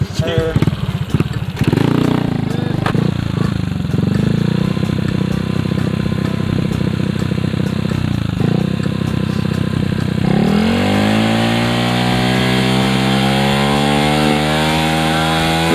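A Honda Dream motorcycle engine starts and revs hard for a racing-style takeoff on a quiet rural road, loud and close, with engine pitch climbing steeply after a rough idle and some talk underneath.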